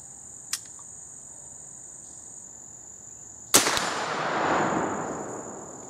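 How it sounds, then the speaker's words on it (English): A vintage CVA Hawken percussion-cap black powder rifle fires one sharp, loud shot outdoors, its report trailing off over several seconds, with steady insects chirping in the background and a brief click earlier. "That's the thing about shooting black powder,"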